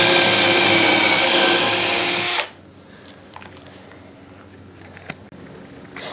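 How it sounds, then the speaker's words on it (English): A power drill runs loud and close, boring a hole into a model railway layout for about two seconds before stopping, followed by quiet handling clicks and small knocks. "I mark the spot where the truck will be sitting, and I drill a hole using a"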